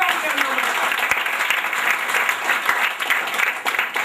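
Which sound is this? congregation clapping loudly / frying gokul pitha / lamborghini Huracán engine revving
congregation clapping loudly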